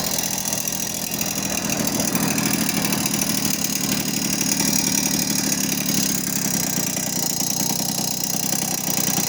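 A small Ogar 200 moped engine idles steadily and close by with the fuel tap closed, a continuous buzzing putter with no revving, running alone without talk.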